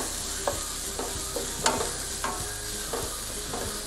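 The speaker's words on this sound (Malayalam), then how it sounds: "നന്നായി വഴറ്റിക്കൊണ്ടിരിക്കണം." Onions sautéing in a pan for a Kerala beef dish, a soft continuous fry under regular spatula scrapes and taps roughly every half second, close up, with no voices.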